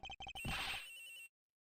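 A cell phone rings in the Ace Attorney Investigations video game, a few quick electronic beeping pulses followed by a longer bright ringing tone that cuts off abruptly, heard alone without speech.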